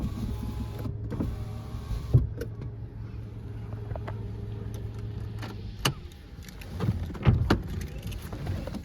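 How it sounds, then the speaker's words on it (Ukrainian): Electric window motors on a 2007 Volkswagen Golf hatchback run in several strokes, a steady whirring hum that ends with soft thumps as the glass stops, heard close up inside the car with no talking. "Скло працює, скло підйомнички все працюють."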